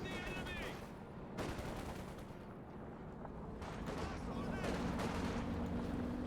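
Machine-gun bursts and rocket artillery volleys from the Kettenwerfer rumble through a Company of Heroes 2 battle, with dense layered gunfire, booming impacts and a voice talking over the fighting.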